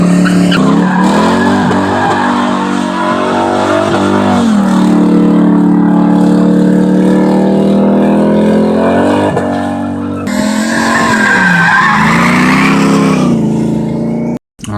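A 1985 Chevy S10 single-cab, long-bed pickup with an LT1 V8 swap skids its tires, loud and close, with a roaring engine and a sustained squeal that breaks briefly and then resumes.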